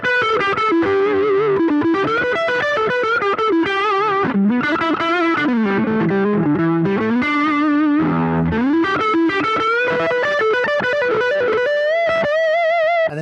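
Electric guitar through a JHS Morning Glory overdrive in high gain mode, a loud, sustained, singing lead line with quick runs and vibrato-like bends, played alone without talk.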